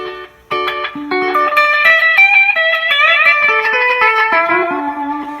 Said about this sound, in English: let me turn this echo on. And so you got, you know, nice kind of classic slap back.